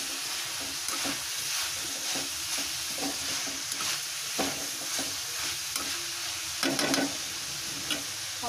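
Vegetables for chowmein fry and sizzle steadily in a pan on a gas stove while a utensil stirs them in repeated scraping strokes, close and moderately loud, with no speech.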